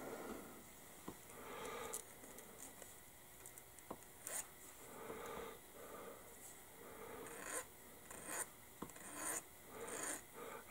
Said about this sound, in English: My Tamiya P diamond file.